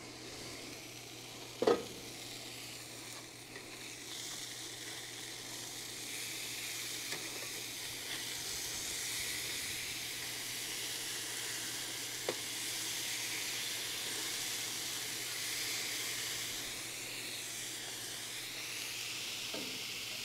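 Food sizzles steadily in a frying pan at a riverside campsite in Arkansas, a constant hiss of frying with a few faint clicks of the pan, and no talking.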